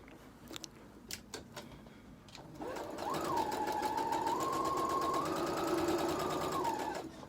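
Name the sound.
sewing machine stitching lining around faux fur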